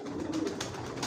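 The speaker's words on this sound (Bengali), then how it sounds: "মাশাআল্লাহ, অরিজিনাল মিলি রেসার ডাউন শেপের মাদিটা ডিম নিয়ে বসা আছে।" A racing pigeon hen sitting on her eggs coos once, low and soft, in a brief moment under a dense background rush.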